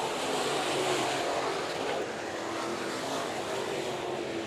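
A pack of IMCA modified race cars at Bakersfield Speedway, engines roaring together in a dense, continuous wall of sound that swells slightly as they pass, loud and without talk.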